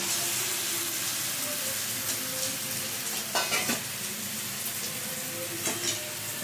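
Chicken fried and stirred in a pan of green chili masala for green chicken: a steady, close sizzle with occasional scraping stirs and clinks running throughout, no talking.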